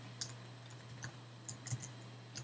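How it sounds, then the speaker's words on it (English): Soft, quiet keystrokes on a computer keyboard come in a few sparse clicks and short bursts against a faint background hum. "Let's just try typing it again."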